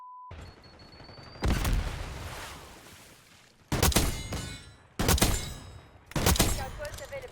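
Four loud, sharp rifle shots spaced a second or so apart, each with a booming echo that fades slowly, from a Dragunov-style sniper rifle in Black Ops 6.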